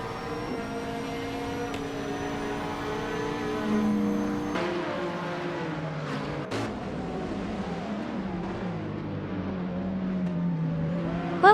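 Race car engines in a racing video game, a steady droning engine tone with shifting pitch as cars rev and pass, one sharp transient midway, continuous and fairly loud.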